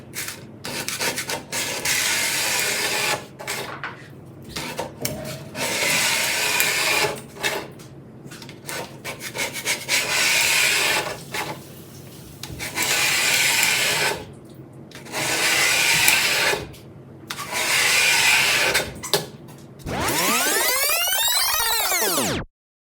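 Old primer is scraped off a kiln shelf for glass fusing with a close, harsh rubbing rasp in repeated strokes separated by brief pauses, ending with a short sweeping swish.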